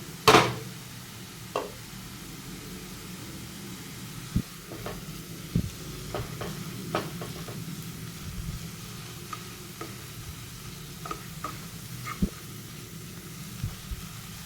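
Paneer and peas roast in a mix of ghee and oil, giving a steady low sizzle with scattered small ticks and clicks from stirring throughout.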